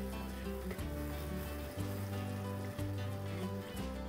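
Finely chopped onion and crushed garlic sauté in a pan with a soft, steady sizzle, quiet and continuous, under a faint tonal hum.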